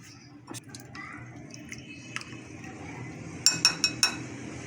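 A chicken teriyaki marinade with salt and finely chopped green onion is stirred in a bowl: soft, wet squishing with scattered light clinks of a utensil, ending in a quick run of four sharper taps against the dish.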